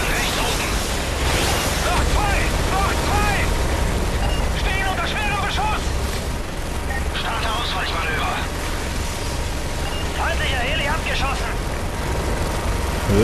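A Russian helicopter in Call of Duty: Modern Warfare 3 drones and rumbles with scattered bursts and pops while several voices talk over it.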